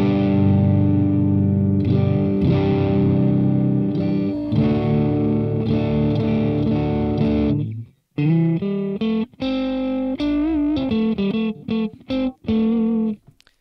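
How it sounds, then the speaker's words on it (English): An electric guitar runs through the intelligent ring modulator effect of a Boss Katana amp, giving a loud, metallic, pitched tone: sustained chords first, then choppy, rapidly stuttering notes. "The intelligent ring modulator changes the oscillation feature according to the pitch of the input, therefore produces a sound with a sense of pitch"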